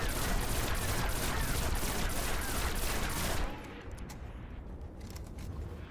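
A pulse rifle in the video game Destiny fires as fast as possible, loud dense bursts of shots packed tightly together for about three and a half seconds before cutting off to quieter game ambience.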